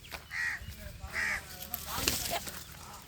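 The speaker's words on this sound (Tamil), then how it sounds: "கோழிங்க பாருங்கள், இந்த சைட்டில் வளர்க்குறாங்க நாட்டு கோழிங்க." Native country chickens on a red-soil farm near Uthiramerur in Kanchipuram district, Tamil Nadu, give a few short calls and clucks outdoors, moderately close, over soft open-air background noise.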